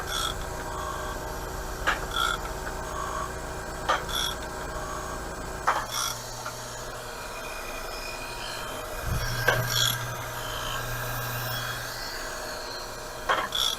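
Surface grinder working over the fixed blocks of Kurt D60 milling vises, a steady abrasive rasping hum with periodic sharper scraping passes, continuous and fairly close, no talk.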